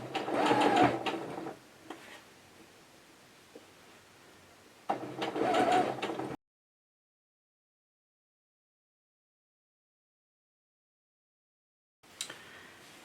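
A sewing machine runs in two loud, steady bursts while stitching gathers on a New Look summer top, stopping for a long silence before briefly starting again at the end.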